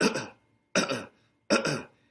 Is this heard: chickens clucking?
no